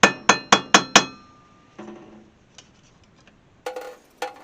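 A hammer striking a small extension taps stainless steel hood trim on a 1968 AMX: five quick, sharp metallic raps at an even pace, then scattered lighter taps with quiet gaps, close and bright.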